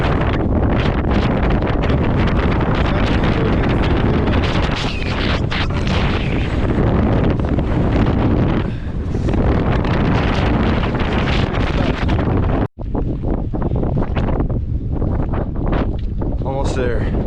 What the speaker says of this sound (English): getting blasted with some wind real quick just to remind me where I am. I'm getting swayed by this wind.